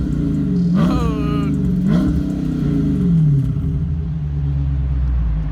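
A 2022 Dodge Charger Scat Pack with its active exhaust deleted, revved close up: two sharp blips climb over a loud, deep idle rumble that continues steadily afterward.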